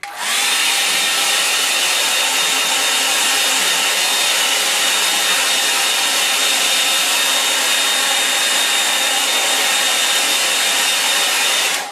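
A hair dryer blows on wet paint in a loud, steady, close airflow roar that holds unbroken for the whole stretch, with no other sounds.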